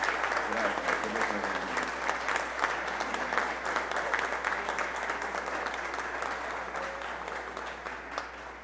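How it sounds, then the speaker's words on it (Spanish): An audience in a church setting applauds continuously and loudly for a new archbishop, a steady wash of clapping that slowly fades toward the end. "Un aplauso a él."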